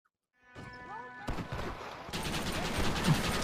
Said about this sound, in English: they're just ramming you with bullets right now